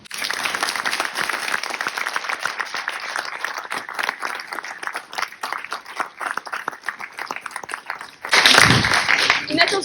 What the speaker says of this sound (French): vous méritez un tonnerre d'applaudissements